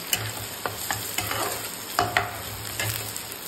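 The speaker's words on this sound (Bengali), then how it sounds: "ভালো ভালো করে ভাজা হোক।" Spices sizzle in hot oil in a non-stick wok, with a spatula scraping and clicking against the pan in quick irregular strokes, close and steady, without talk.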